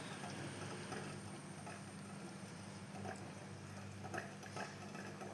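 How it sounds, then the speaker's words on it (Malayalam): A spoon stirs a jackfruit halwa of coconut milk and rice flour in a pan, a faint, steady scraping and swishing that continues throughout, quiet and close. "ഇനി നമുക്ക് കൈവിടാണ്ട് ഇളക്കി കൊടുത്തോണ്ടിരിക്കണം."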